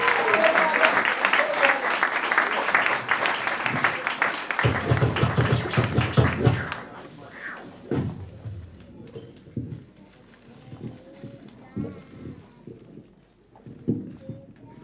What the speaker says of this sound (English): So I think this guy deserves an amazing round of applause.